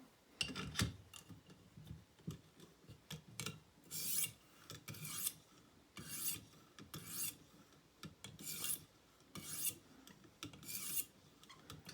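A Green River Mountain Man knife blade stroked across a 1200 grit sharpening stone, with close, steady rasping passes repeating about once a second and no other sounds.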